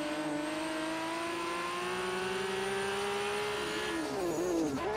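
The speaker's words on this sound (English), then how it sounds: "Hitting that red line with no problem thanks to that lightweight flywheel and clutch upgrade." An R32 Skyline GTR with a lightweight flywheel and clutch upgrade, driven in Forza Horizon 3, revs loud and steady near its redline, its pitch climbing slowly before dipping and wavering sharply near the end.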